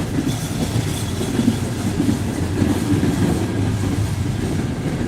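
A train at St. Albans rumbles steadily past on the nearby track, a loud, continuous low roll with faint wheel clatter and no voices.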